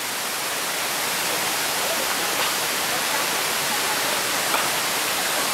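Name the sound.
White Silk Waterfall rushing water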